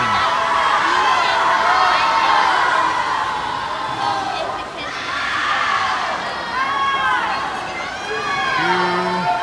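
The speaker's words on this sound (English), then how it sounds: "You'll hear the volume turn up from all the Gators who are at the blocks, cheering her on to the transition" Crowd of Gators teammates at the starting blocks of a women's 400 IM swim meet cheering loudly and continuously for a swimmer nearing the stroke transition, a dense roar of shouts and whoops with an announcer's voice mixed in.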